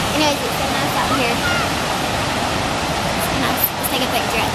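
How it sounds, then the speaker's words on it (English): Standing right beside a waterfall on a pleasant outdoor outing, a constant loud hiss of cascading water fills everything, with faint voices now and then underneath the roar. "Now we're just hanging out by the waterfall, my favorite part."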